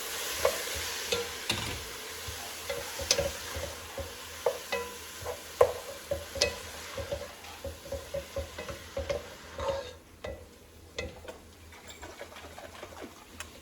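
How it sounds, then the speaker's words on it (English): Cauliflower rice added to a pan and stirred, producing a quiet sizzle with a run of soft rhythmic scraping and tapping strokes of a utensil against the pan, fading toward the end. "I'm going to add the cauliflower rice"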